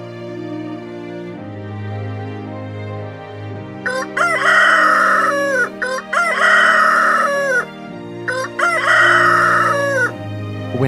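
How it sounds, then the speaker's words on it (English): A rooster crows loudly three times in a row, each crow a long, strained cock-a-doodle-doo spaced a couple of seconds apart, set over a steady low hum and sustained musical tones. "When Peter heard the rooster"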